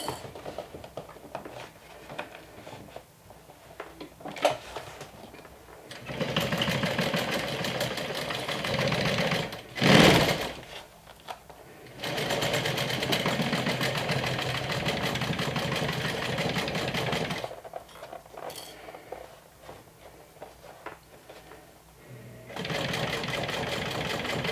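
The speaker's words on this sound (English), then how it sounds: "stitch it down slowly with a 1/2 inch seam allowance" A sewing machine stitches a half-inch seam on a medium crossbody tote bag, humming steadily and close for long stretches with brief pauses and a sharp bump midway, softer quieter passages at the start and near the end.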